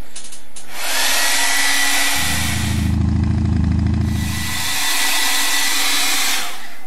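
A hair dryer blows on a watercolor painting of a shoe, a loud close whirring roar that starts, shifts in pitch as it moves, and runs for several seconds with no talk.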